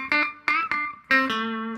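Electric guitar playing a short lick with a slightly driven tone, four quick picked notes ending on a ringing held note, close and alone.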